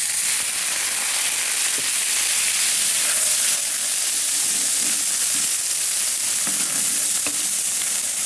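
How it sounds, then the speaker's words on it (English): Onions sauté in a pan with a splash of veggie broth, giving a steady, close sizzle with continuous hiss and faint stirring clicks throughout. "I'm adding the onions and a little bit of veggie broth"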